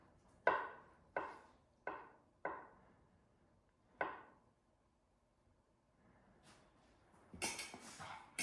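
A knife chops through boiled Yukon Gold potatoes on a board, five sharp, close taps spaced roughly evenly, then a pause and a cluster of softer scraping and clatter at the end.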